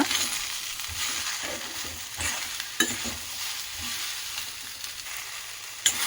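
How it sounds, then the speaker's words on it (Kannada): Okra frying and being stirred in a few tablespoons of oil, a steady close sizzle with occasional utensil scrapes and clicks throughout, no voices. "ಎರಡರಿಂದ ಮೂರು ಟೇಬಲ್ ಸ್ಪೂನ್ ಸ್ಪೂನಷ್ಟು ಎಣ್ಣೆಯನ್ನು ಹಾಕಿಬಿಟ್ಟು ಫ್ರೈ ಮಾಡೋಣ"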